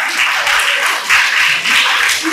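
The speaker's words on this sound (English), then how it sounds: "he's able to see clap for that" Audience clapping at an Entrepreneurs' Day event, a dense, steady wash of many hands that swells and dips slightly, loud and close, with no talk over it.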